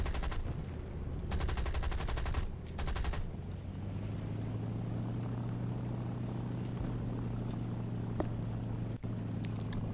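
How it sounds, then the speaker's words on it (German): In War Thunder, machine guns fire at tanks in two rapid bursts near the start, then give way to a steady engine drone for the rest. "fahre ich mit MGs gegen Panzer"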